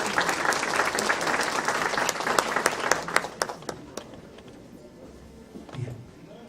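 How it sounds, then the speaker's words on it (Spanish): Audience applause for a speaker at a Spanish-language talk on drug treatment courts, dense clapping that thins into scattered individual claps and fades out, followed by a quiet room. "Un aplauso para él."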